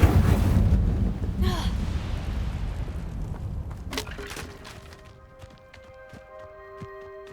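An Incendio fire spell is cast in Hogwarts Legacy, a loud rushing whoosh and crackling burst that decays over several seconds into a quieter tail with tonal game music and a sharp accent partway through.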